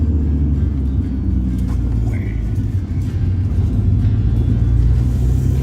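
A manual-transmission car engine hums with a steady low rumble while driving, heard from inside the cabin, with no clear rev spike. Muffled talking runs underneath.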